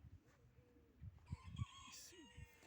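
A rooster crows with a rising, drawn-out call over background clucking and low rumbling, fairly close.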